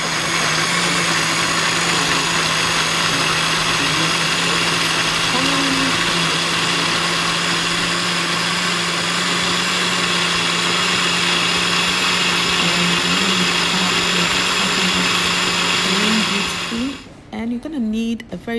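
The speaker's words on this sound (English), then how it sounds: "pulsing in your blender" Blender motor whirs loudly and steadily for a long stretch while pulsing tiger nuts and water, its pitch wavering slightly as it churns, then cuts off abruptly near the end.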